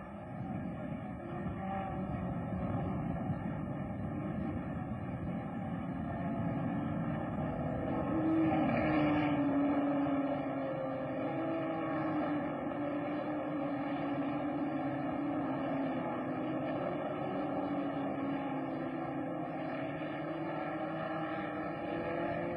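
Racing cars at the 1963 Australian Grand Prix heading through Ledger Corner and onto the pit straight, engine drone rising and falling faintly through old, noisy recording hiss, no talking.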